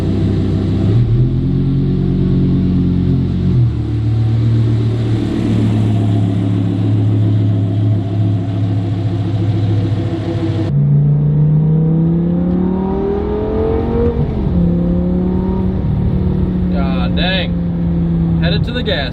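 An Audi R8 V10 drives off, its engine droning loudly and close at idle before shifting and rising in pitch as it pulls away, with a person talking over it.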